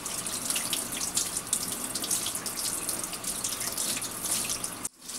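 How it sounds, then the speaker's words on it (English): Cold tap water runs into a sink while raw chicken is washed, a loud, steady splashing stream with scattered drips that cuts off abruptly near the end. "Washing the chicken."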